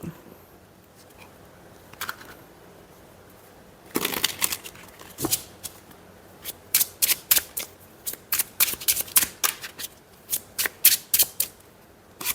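Tarot cards being shuffled by hand: a few soft riffles at first, then a long run of crisp, close, repeated flicking and slapping bursts in an irregular rhythm, with no voices.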